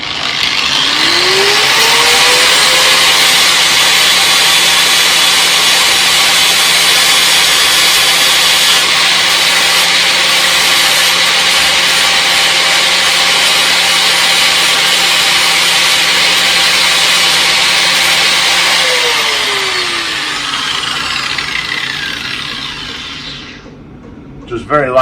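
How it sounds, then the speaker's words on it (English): An angle grinder fitted with an abrasive disc grinds stainless steel bolts in a loud, steady, close whine that holds for about twenty seconds, then winds down and stops. "I've got the stainless steel bolts, and I just get the angle grinder with an abrasive disc on it."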